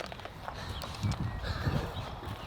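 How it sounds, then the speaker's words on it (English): Wild Spanish Mustang horses move nearby with soft, uneven hoof clip-clops on the ground, faint and close. "Wild horse, guys."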